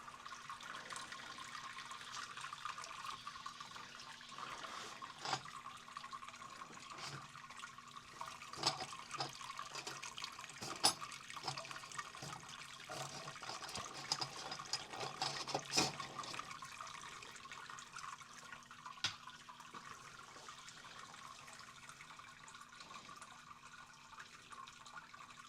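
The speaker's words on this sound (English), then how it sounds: "Guess we'll just let it drain for a little bit." Liquid drains steadily from brewing equipment while an IPA beer is brewed, a faint trickling wash with occasional drips and small splashes and a low steady hum beneath.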